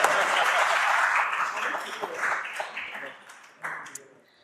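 A short burst of audience clapping at a town council meeting, strong at first and then tapering off into a few scattered claps.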